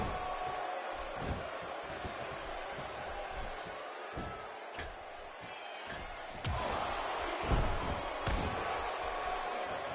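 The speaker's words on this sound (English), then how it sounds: "The crowd on hand tonight currently fired up for this match here on Superstars." A wrestling arena crowd in the WWE 2K16 video game keeps up a steady, dense roar, with a few sharp slams and thuds cutting through and the noise swelling louder toward the end.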